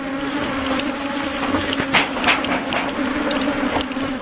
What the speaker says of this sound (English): thousands more bees come out to defend them